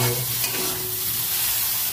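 Soaked soybeans fry in hot oil in a pan, giving a steady, close sizzle with light stirring throughout and no talk.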